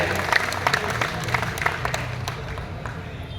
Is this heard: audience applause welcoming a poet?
yes